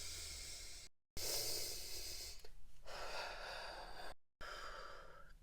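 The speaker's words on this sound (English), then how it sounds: "Take a really deep breath." A child draws a long, deep breath, an airy hiss that swells and fades in two or three close, unhurried waves, with no talking over it.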